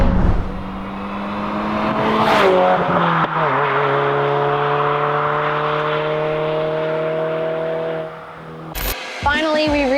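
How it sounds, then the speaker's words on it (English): An AWE catback exhaust with quad 4-inch double-walled slash-cut tips on a Subaru VB WRX, heard from outside as the engine hums steadily and rises in pitch, with a sharp blip and revs near the end. "And this is what it sounds like from outside the car."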